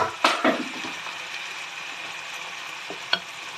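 Chorizo goes into hot oil with chicken liver for pancit bihon guisado, giving a steady soft sizzle of frying punctuated by a few sharp clinks and scrapes of stirring.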